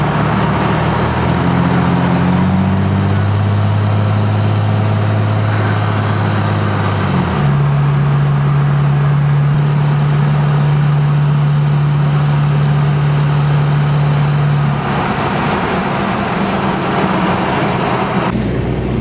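A 2005 Cummins 5.9 diesel truck with a new turbo drives steadily, its engine drone loud and close, with a turbo whine that rises and falls and a gear change partway through; no one speaks.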